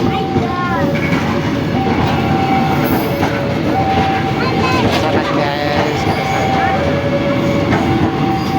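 A red KRL commuter electric train rumbles and clatters past close by, its motors whining in rising and falling tones, while people talk over the noise.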